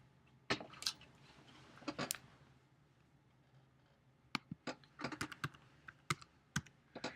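Typing on a computer keyboard while writing code, faint bursts of sharp key clicks separated by quiet pauses, ending in a busier run of taps, with no voices.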